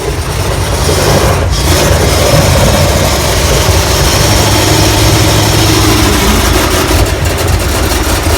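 A Ford 460 engine with its muffler cut off runs rough and misfires, giving a loud, steady, close rumble that continues for the whole stretch with no talking.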